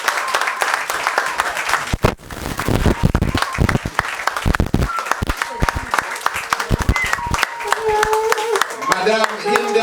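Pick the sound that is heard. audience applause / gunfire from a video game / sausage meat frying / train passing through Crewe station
audience applause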